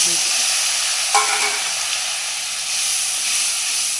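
Spices sizzle and hiss steadily in a hot wok, a continuous frying crackle with a brief clink of stirring partway through.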